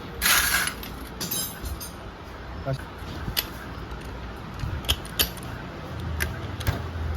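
A power tool tightens a 22 nut on the clutch of an Activa scooter, giving brief mechanical bursts with ratcheting clicks and creaks over a low workshop hum.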